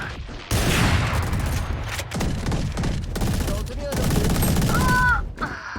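Dense video game gunfire, rapid bursts and volleys of shots running almost continuously, loud and close, with a few short gaps and game sound effects near the end.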